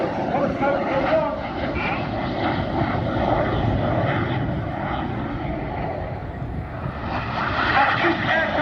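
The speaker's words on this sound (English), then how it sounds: "the synchro pair running in at over 800 miles per hour" The Red Arrows synchro pair of jets sweep past at an air show at high speed, a loud sustained roar that swells and fades, with announcer commentary spoken over it.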